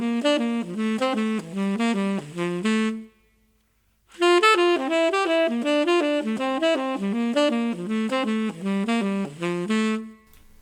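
A jazz lick from a solo is played in root position as a run of clear, bright melodic notes. A short phrase is followed by a brief pause and then a longer continuous line.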